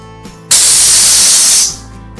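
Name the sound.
pressure cooker whistle while cooking mango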